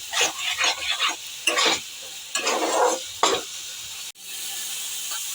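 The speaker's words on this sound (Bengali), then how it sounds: "দিয়ে একটু ভালো করে নাড়বো, যতক্ষণ না পেঁয়াজটা একটু ভাজা ভাজা হচ্ছে" Chopped onions fry in hot oil in a pan while being stirred, the loud sizzle rising and breaking in short bursts with each turn of the spoon before cutting off near the end.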